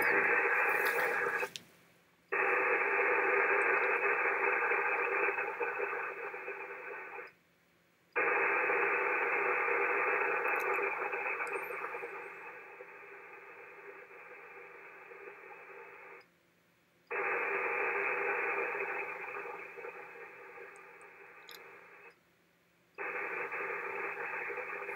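Noisy HF radio reception of a Winlink VARA digital signal: loud, harsh static hiss in long bursts broken by short quiet gaps, with faint ticks in the pauses and no voices.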